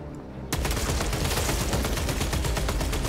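An Oculus Bolter fires in Warhammer 40,000: Space Marine 2. After a brief lull it breaks into a loud, continuous rapid-fire stream of shots that runs unbroken to the end.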